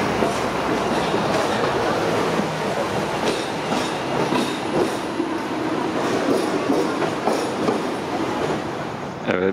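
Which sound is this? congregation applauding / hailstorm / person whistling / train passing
train passing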